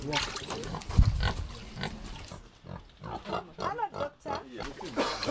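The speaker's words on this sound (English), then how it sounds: "Mr. Gyagenda, how long have you had these pigs for?" Pigs on a farm grunt repeatedly at close range in short, irregular bursts, while people talk over and between the grunts.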